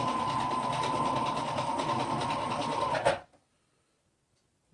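A sewing machine runs fast and steady while stitching a satin edge on red fabric, a close rhythmic whir lasting about three seconds before stopping abruptly into silence.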